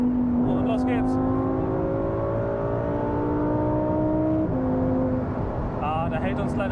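Inside a Lamborghini sports car accelerating hard on the German Autobahn, the engine roars loud and steady with its pitch climbing and one gear change partway through, and voices can be heard over it.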